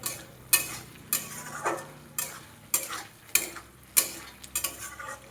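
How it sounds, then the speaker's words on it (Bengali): Ridge gourd and potato curry with salt being sautéed in a pan, with repeated stirring scrapes and a soft sizzle underneath, in regular bursts about once a second. "আর একটু ভালো করে কষিয়ে নিচ্ছি।"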